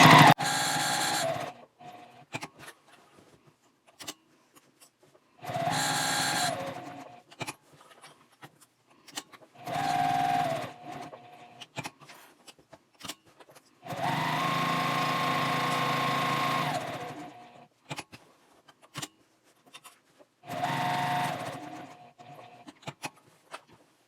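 A sewing machine bastes a quarter inch from the edge along the bottom of a drawstring tote bag, in several short runs of a few seconds each, separated by quiet handling of the fabric.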